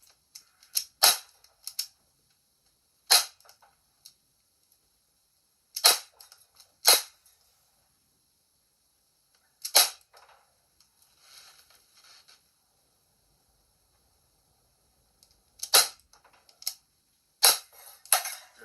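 Sharp airgun shots crack at a can in bursts, some alone and some in quick pairs or clusters, with near-silent gaps between them.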